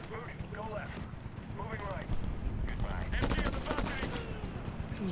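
Gunfire in the Medal of Honor video game, a burst of fairly faint shots with a rattling spell near the end, heard under people talking.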